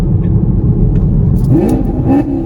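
A car engine hums at a steady low drone, then blips briefly as rev matching brings it into second gear, close and loud with no talking.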